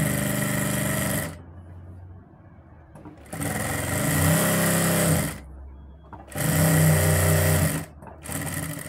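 Close sewing machine stitching around the lined collar of an organza kameez, running in three loud bursts of steady whirring separated by short pauses, with a softer fourth start at the end.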